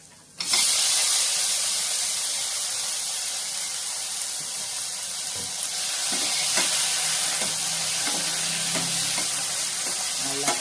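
Chopped onion and tomato sizzle steadily in a hot pan for murungai keerai paruppu, a close, constant frying hiss with a few faint stirring scrapes.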